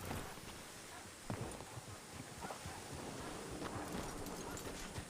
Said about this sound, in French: je sors la calèche exprès pour embarquer tout le monde.